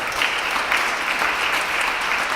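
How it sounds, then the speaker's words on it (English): An audience at an awards ceremony claps steadily, a dense, even burst of applause heard close and continuous, with no break and no speech over it. "can we give them a round of applause, please, and say thank you"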